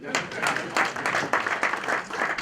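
An audience claps for a lecturer at a winter school machine learning talk, a short, steady burst of hand clapping at moderate loudness, filling the room without a break.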